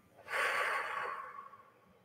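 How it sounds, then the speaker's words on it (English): A single slow, deep breath, drawn in through the nose and let out through the mouth, heard up close as a soft airy rush that swells quickly, holds, then fades away over about two seconds. "Deep breaths, slowly breathing in through the nose, out through the mouth."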